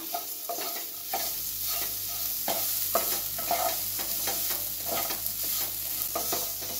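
A stuffed-idli filling of dry fruit, poppy seeds, sugar, cardamom and nutmeg powder is stirred in a pan over low heat. Repeated rhythmic spatula scrapes ring out over a soft, steady sizzle, close up with no talk.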